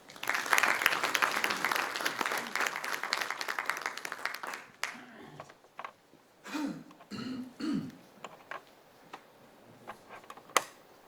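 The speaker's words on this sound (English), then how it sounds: "a round of applause" Audience applause at a symposium on Islamic education, a dense burst for the first four seconds that stops abruptly, followed by scattered throat clearing, coughs and small shuffling noises in a quiet hall.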